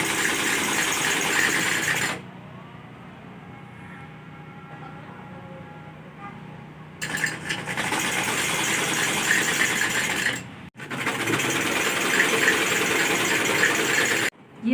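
A sewing machine stitches a suit in loud, busy runs of mechanical whirring. The runs are broken by a long quieter pause and a brief stop before the stitching resumes.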